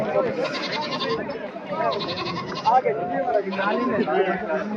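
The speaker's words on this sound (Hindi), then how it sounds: "खूबसूरत बकरी, दूध वाली बकरी है जी" Milk goat with three kids at a livestock market in Mansehra bleats repeatedly in short wavering calls, close and fairly loud, under nearly continuous male speech and market chatter.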